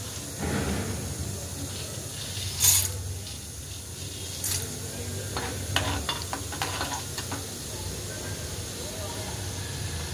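Roasted chana dal frying in hot oil for a thin poha chivda, a steady close sizzle with scraping stir strokes and a few sharper clinks against the pan.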